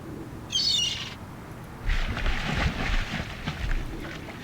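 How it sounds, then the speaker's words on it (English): A seagull in Venice gives one short, shrill call near the start. Gusty wind noise and a muffled outdoor rumble follow. "It's a seagull. Poor guy looks quite hungry."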